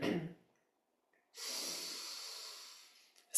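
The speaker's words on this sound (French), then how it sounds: "On y va à l'inspire." Deep, slow inhale through the nose during a Kundalini breathing exercise, close and clear, following a short breath sound and a moment of silence.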